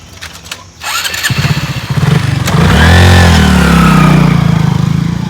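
A motorcycle engine starts up, revs and pulls away, its rising drone loud and close before holding steady.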